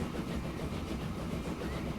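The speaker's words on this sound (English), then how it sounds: "we are going to have to wait for this train to cross over now." A train rumbles past at a crossing in the Transport Fever railway game, a steady low rolling roar with faint clatter that holds evenly throughout, no voices.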